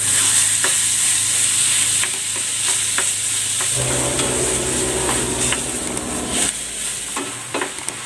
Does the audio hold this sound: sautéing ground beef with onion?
yes